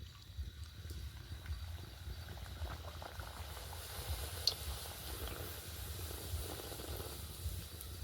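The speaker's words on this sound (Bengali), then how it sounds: "এবারে একটা তেলের মধ্যে ছেড়ে দেব।" Food slips into hot oil in a pan and fries with a steady, faint bubbling hiss that holds evenly throughout, with no talking.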